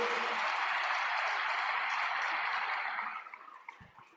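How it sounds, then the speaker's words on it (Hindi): An audience at a water-conservation gathering gives sustained applause for actor Nana Patekar, a dense, even roar of clapping that tapers off near the end, leaving a few scattered claps. "मैं बहुत बहुत दिल से चाहता हूं एक बार आप तालियां बजाएं मेरे पिता तुल्य पद्मश्री नाना"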